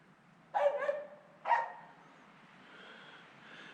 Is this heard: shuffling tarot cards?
no